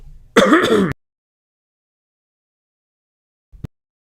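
One loud, close cough, raspy and throaty, then silence broken only by a faint click.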